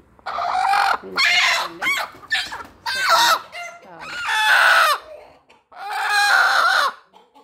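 A free-range country hen clucks and cackles close by in loud, repeated bursts, with brief quiet gaps between calls.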